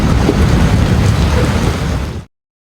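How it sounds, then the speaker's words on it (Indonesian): Heavy rain pours down with rumbling thunder, a loud, dense roar that runs steadily and then cuts off abruptly near the end. "Risa pun heran dengan hujan deras yang tak kunjung reda"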